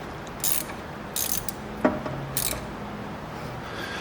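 A ratchet wrench tightening a bolt on a Dana 20 transfer case during a rebuild, with a few short clicking bursts spaced apart over quiet workshop background noise.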